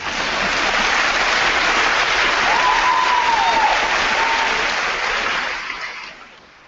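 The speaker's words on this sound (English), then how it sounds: "I think you can applaud there." Audience applause at a high school graduation ceremony, dense sustained clapping from a large crowd that holds steady for several seconds before fading out, with a brief faint voice in the middle.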